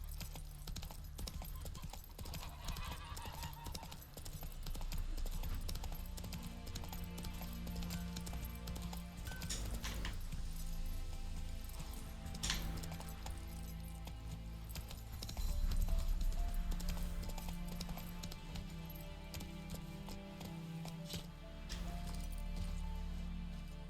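The horse Roach gallops in The Witcher 3, its hooves beating a steady, rapid clip-clop throughout under game music and ambient sound, at a constant moderate loudness.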